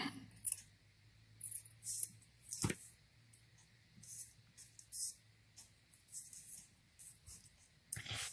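Scissors snipping through a piece of paper trim at a craft table while making junk journal tags, a series of soft, close, irregular cuts and rustles, fairly quiet and with no talking.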